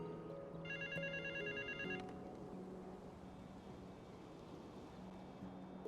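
A mobile phone ringtone in the GTA 5 roleplay game plays a bright repeating electronic melody for about a second and a half, over low tonal game music and a soft, constant wash of background ambience.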